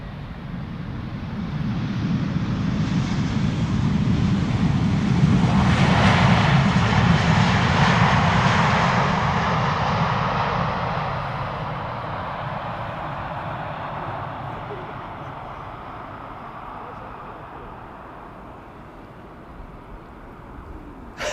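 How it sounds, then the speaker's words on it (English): A KLM passenger jet lands at Schiphol Airport after a long-haul flight, its engine roar swelling loudly to a peak, then easing into a sustained rumbling whine as the aircraft rolls out, with no talk. "now landing KLM flight 755, 10 hours and 36 minutes of flight time"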